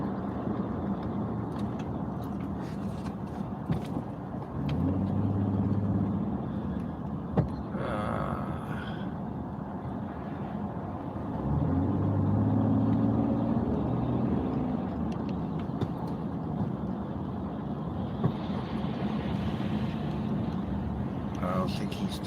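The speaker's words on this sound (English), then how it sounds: "There's a street sweeper making so much dust up here." A street sweeper driving slowly along a dusty road in traffic, its broad motor drone rising twice into louder, closer passes amid steady road rumble, with someone talking over it.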